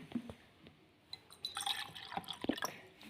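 Water trickles and splashes into a glass in short bursts, with drips and light glassy clinks, fairly close and quiet, no talking.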